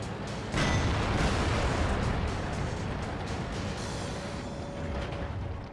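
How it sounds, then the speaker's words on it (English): A heavy tank gun shot and the blast of an ammo rack detonation on an enemy tank in the World of Tanks video game, a loud dense boom rolling into sustained rumbling roar, close and alone. "As you see there, I ammo racked him"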